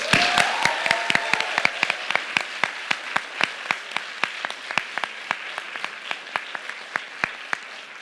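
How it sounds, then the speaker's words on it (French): An audience at a university eloquence contest final applauds a jury member: dense clapping that starts full and thins into scattered, sharper individual claps as it fades, with no talk over it. "Faites un tonnerre d'applaudissements pour Renaud Epstein"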